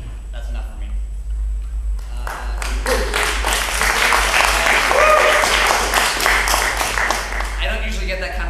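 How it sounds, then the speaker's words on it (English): An audience breaks into loud applause after a quieter opening, many hands clapping in a dense, sustained patter with some voices mixed in. "I don't usually get that kind of applause before I speak."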